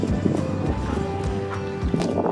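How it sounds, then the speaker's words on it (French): A horse works in a slow, collected canter in a show-training session, with dull, rhythmic hoofbeats on soft ground. The beats sit under steady background noise and a faint tonal hum. "Il va travailler dans un petit galop."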